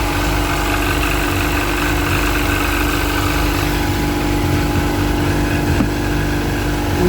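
A Sea-Doo 951 DI engine idles smoothly at steady revs during a fuel and air pressure test, a loud, constant mechanical drone with an even hum throughout.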